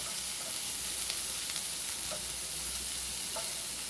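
Bacon sizzles on a hot flat-top griddle for burgers, a dense, steady crackling hiss with small pops, close and loud throughout with no talking.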